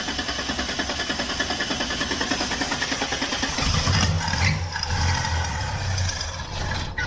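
A 1979 Holden Kingswood engine cranks over on a start attempt with a steady, rhythmic chugging from the starter, then shifts to a rougher, heavier drone partway through without clearly catching.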